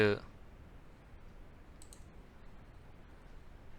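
A computer mouse gives one sharp, close click at the start and a faint double click a little later, in an otherwise quiet room during work in engineering analysis software.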